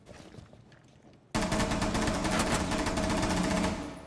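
Gunfire from the Rainbow Six Siege video game bursts in abruptly and stays loud and dense, a rapid stream of close shots that rolls on for several seconds before easing slightly at the end.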